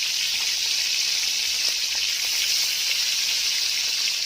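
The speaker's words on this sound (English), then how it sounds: "And now I'm going to add one white onion, which I've already chopped, finely chopped." Finely chopped white onion fries in a pan for Chinese vegetable rice, giving a steady, close, even sizzling hiss that runs unbroken throughout with no talking.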